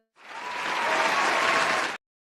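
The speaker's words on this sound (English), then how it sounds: "That deserves a round of applause." A round of applause from a talk-show audience, a dense wash of clapping that swells in quickly, holds steady for nearly two seconds, then stops abruptly.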